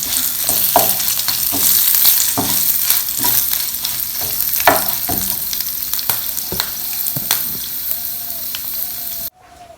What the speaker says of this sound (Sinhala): ඊට පස්සේ අපි කරපේචි ටික දාගන්නවා.